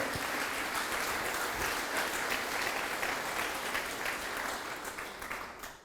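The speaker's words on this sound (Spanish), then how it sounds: "Dale un aplauso al Señor, le demostró." A church congregation gives sustained applause during a Spanish-language sermon service, a broad, even wash of many hands clapping throughout, fairly distant and tapering slightly toward the end.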